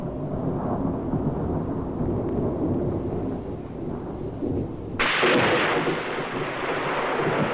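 Thunder from a spring storm rolls as a long low rumble, then a sharper, louder crack bursts in partway through and rumbles on afterward.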